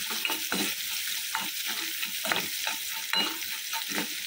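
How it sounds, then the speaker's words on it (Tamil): Onions sautéing in a pan, a constant close sizzle broken by repeated scraping strokes of a spatula stirring them every half second or so, with no talking. "வெங்காயம் போட்டு நல்லா வதக்கிடலாம்."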